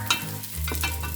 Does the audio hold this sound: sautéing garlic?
yes